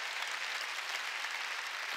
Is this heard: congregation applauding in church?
yes